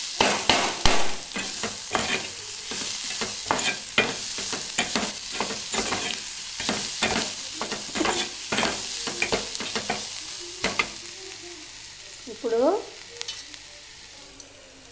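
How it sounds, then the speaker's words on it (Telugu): Curry mixture with turmeric for a paneer curry frying on a low flame, a soft steady sizzle broken by repeated sharp scrapes of a spoon stirring the pan, close and alone without talk. "లో ఫ్లేమ్లో వేగిద్దాం."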